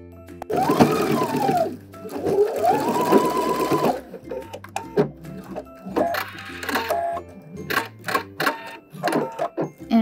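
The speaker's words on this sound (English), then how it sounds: "Now I'm going to be sewing these two layers together" A sewing machine stitches two fabric layers together for a dress made from a vintage skirt and shirt, running in two long bursts and then in short, rapid stop-start pulses, close and loud.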